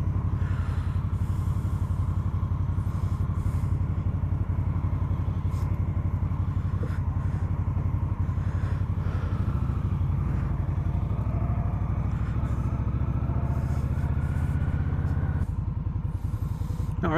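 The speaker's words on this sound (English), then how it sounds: "the beautiful 2020 Indian Scout. I hope you enjoy this test ride." A 2020 Indian Scout ABS motorcycle on a test ride gives a steady, low, throaty engine drone with road rumble and wind that runs without a break for the whole stretch.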